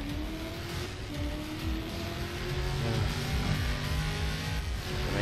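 A Lamborghini engine in a video game revs and accelerates steadily, a loud continuous roar with rising tone and no talking over it.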